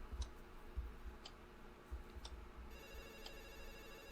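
Telephone ringing in a horror video game, sharp repeated rings and clicks at a low, fairly distant level over a dark ambient drone, with no talking.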